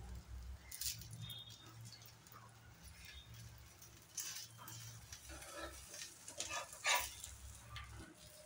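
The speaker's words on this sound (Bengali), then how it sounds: "এইভাবে আমি সবকটা পরোটা সুন্দর করে ভেজে নেব।" Paneer paratha frying in a pan, a soft continuous sizzle with occasional scraping and stirring clatter, fairly faint and close, no talking.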